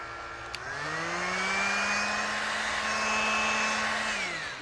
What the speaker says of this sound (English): I'm going to hit it with my heat gun, and I'm going to put it on the setting just for a 1